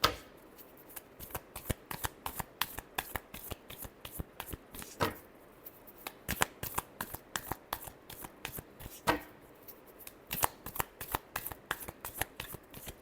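Tarot cards being shuffled by hand in repeated bursts of crisp riffling and snapping slaps, close and fairly loud, with brief pauses between shuffles and no talking.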